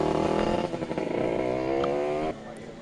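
A 20-horsepower moped engine runs hard in a buzzing, harmonic-rich drone that climbs in pitch as it revs, loud and close, then drops off abruptly near the end.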